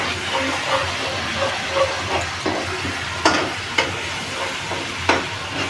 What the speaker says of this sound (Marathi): आलं लसूण पेस्ट जरा थोडी परतायची